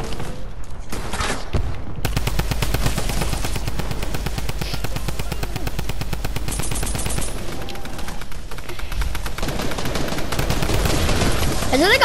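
Rapid gunfire in a zombie-themed Fortnite match, a dense nonstop barrage of loud close shots filling the scene, with players talking intermittently underneath.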